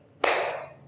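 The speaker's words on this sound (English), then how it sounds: "You give me a massive clap." A single loud, sharp clap from one person, close up and alone, with a short ringing decay.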